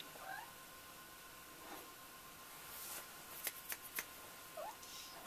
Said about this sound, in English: You can hear the cat moaning.